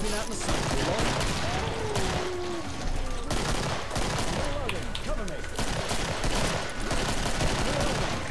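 Rapid, dense gunfire from the video game Killing Floor, steady and loud throughout with overlapping shotgun blasts and a busy game mix behind.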